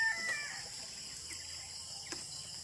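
Chickens cluck now and then, faint and at a distance, with a steady hum of insects underneath.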